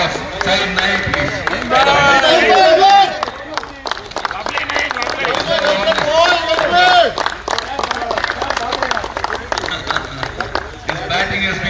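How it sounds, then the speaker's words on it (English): Crowd clapping and cheering at a man-of-the-tournament trophy presentation during a veterans' inter-state cricket tournament final, a steady, dense round of applause with background hubbub lasting throughout. "can I have a round of applause?"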